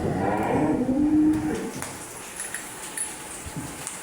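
A heifer on a dairy farm gives a single low moo up close, lasting over a second. Quieter farm ambience with faint scattered noises follows.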